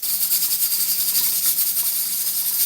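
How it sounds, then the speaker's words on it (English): Corned beef and fries frying in hot oil give a steady, bright hiss and crackle that fills the whole stretch, close and fairly loud with no talking. "when you're frying, you don't want to put a lot in at once"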